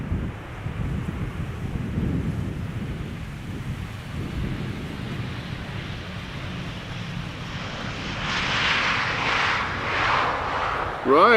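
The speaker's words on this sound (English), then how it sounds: "Right, Turkish Flight 1957 arriving from Istanbul. There it is, A330-300." Turkish Airlines Airbus A330-300 arriving at Amsterdam Schiphol: a broad jet engine roar under steady wind noise on the microphone, swelling near the end as the airliner passes closer.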